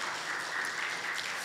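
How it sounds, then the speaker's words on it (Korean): Church congregation applauding together during a Sunday worship service, a steady wash of many hands clapping that stays loud and even for the whole short stretch. "함께 큰 박수 주셨습니다."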